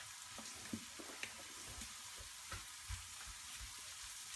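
Okra and potato stir fry sizzles steadily in a pan while it is stirred, a soft constant frying hiss broken by light scraping and clinks, quiet and close, with no talking.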